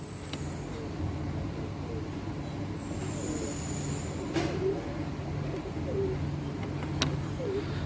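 Soft pigeon cooing, a few low repeated coos scattered over a steady background hum with faint traffic-like noise; no clear talk.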